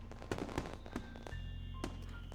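Fireworks in the visual novel game Katawa Shoujo go off as a few soft, scattered pops and thumps over a low steady hum, faint and distant-sounding.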